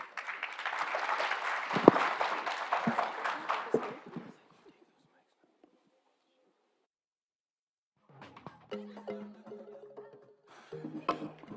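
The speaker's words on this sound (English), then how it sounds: "Just another round of applause for Mr. Sam, please, and the team" Applause for a speaker at the EIF Namibia stakeholders conference, a dense burst of clapping from the room for about four seconds that then fades to silence before voices and other sounds return.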